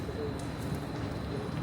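Pigeons coo softly in the background amid a steady ambient hum, faint and somewhat distant, with a low murmur of noise throughout.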